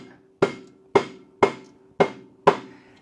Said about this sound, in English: you want to take a rubber mallet or the back end of a hammer.